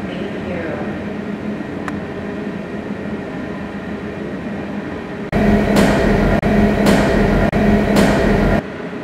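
A passing train rumbles loudly in the second half, over a steady background drone, with repeated clanking bursts in a regular rhythm like wheels crossing rail joints.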